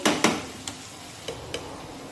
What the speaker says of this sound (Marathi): आता कांदा आणि टोमॅटो छानपैकी शिजलेले आहेत, तर यामध्ये आपण मसाले टाकूया